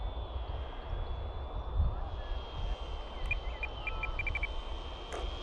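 An RC model plane's motor whines steadily in flight as a thin high drone over wind rumble, distant and fairly faint, with a few brief chirps near the end.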